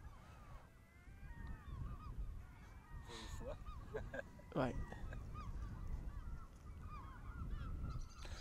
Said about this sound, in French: les bruits de la baie, les oiseaux notamment, qui sont les plus bruyants.